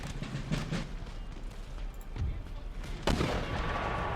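Musket volleys from line infantry in Empire: Total War, Dutch campaign battle near Amsterdam, crackle as dense rolling gunfire over a constant battle din, with a sharper, louder burst near the end.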